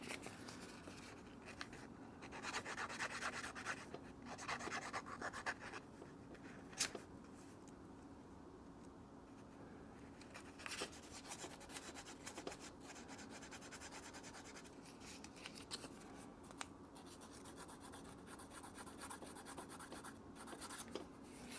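A watch clasp from a Pagani Design Moonwatch homage is rubbed back and forth on sandpaper, giving a faint, close, continuous scratchy rasp with uneven strokes and small clicks.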